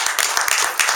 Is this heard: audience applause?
yes